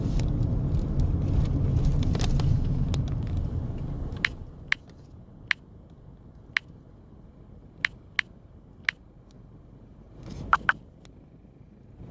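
A low, steady rumble fills the car interior while it drives, louder during the first four seconds and then quieter, broken by a few sharp clicks and taps.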